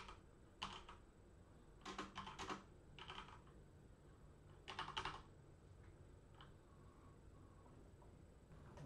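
Quiet typing on a computer keyboard, short bursts of key clicks spread across the stretch with pauses between them, close but soft, no voices.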